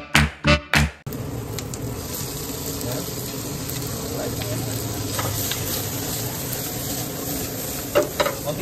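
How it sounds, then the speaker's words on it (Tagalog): Chicken liver sautés in a pan, a continuous moderate sizzle with light stirring and scraping, following a few loud knocks at the start and a couple of clatters near the end. "Konting gisa lang yan."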